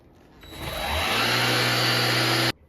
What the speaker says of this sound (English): I will use this vacuum every few days or so, and I'm going to use it today.